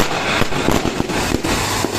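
Dense, loud crackling of fireworks, rapid pops overlapping into a continuous fizzing roar, at the Shri Krishna Sharad Purnima festival in Jawad, Neemuch district, India.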